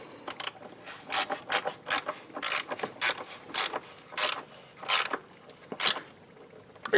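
A ratchet tightens the battery hold-down bolt on a 2013 Chevy Malibu, giving loud, close bursts of rapid clicking strokes in an uneven rhythm with short pauses between pulls, and no talking.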